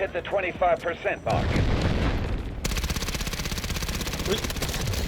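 AS VAL rifle fired on full auto in the shooter game Delta Force: after a brief burst of talk, loud rapid-fire shots rattle in a dense, continuous stream, joined by heavier booming gunfire that keeps going to the end.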